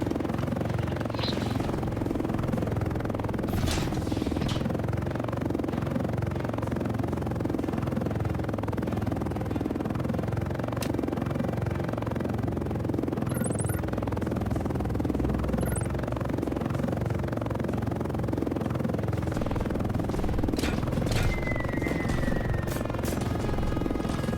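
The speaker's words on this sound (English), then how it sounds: "on controller for some reason helis drift weird whenever they're in hover mode." A helicopter hovers in the War Tycoon video game, a steady droning rotor and engine whine that holds at a constant level throughout with a few faint clicks on top.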